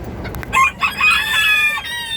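A bantam chicken clucks and squawks in short agitated bursts as its egg is taken from it, the calls close and fairly loud with brief pauses between them.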